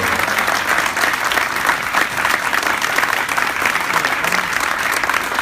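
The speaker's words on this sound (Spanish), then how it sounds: "un aplauso para Alejandro y gracias por todo" An audience at a comics convention interview in Montevideo breaks into sustained, dense applause for Alejandro, loud and even throughout with a faint crowd murmur.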